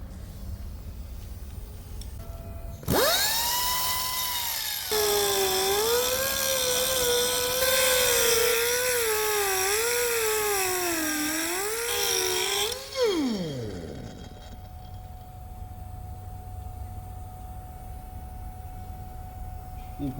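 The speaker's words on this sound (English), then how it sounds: "to grind it out, I'm going to be using a 3M 5-inch silver rigid grinding disc" Angle grinder fitted with a 3M 5-inch silver rigid grinding disc grinds out weld cracks on a cracked final drive spindle from a CAT 793 mining truck, a loud steady whine with wavering pitch for about ten seconds before spinning down.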